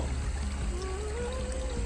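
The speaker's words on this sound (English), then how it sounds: "It's obviously moving a whole lot more water than the other pump was. So I like the waterfall better that way." Water from a backyard pond waterfall, fed by a new pump, pours and splashes in a steady, continuous stream at close range, with a faint tonal hum running underneath.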